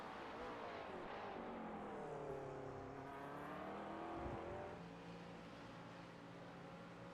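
GT3 race cars in a racing video game roar down the Mulsanne Straight at Le Mans, the engines droning with rising and falling pitch as cars accelerate and pass. The engine roar is continuous and fairly close, then eases slightly near the end.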